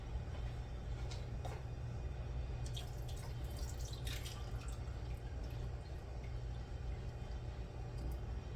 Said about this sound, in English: I'll add some water to this